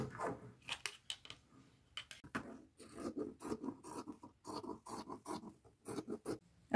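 Scissors cut a 1.5-inch strip from about 20 inches of upcycled material in a series of close, quiet rasping snips and pauses, each burst of cutting short and crisp.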